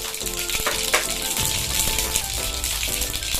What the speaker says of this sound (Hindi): हमारा तेल गर्म हो चुका है। अब डालेंगे हम राई करके